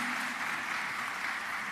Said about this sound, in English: Let's clap our nominees again.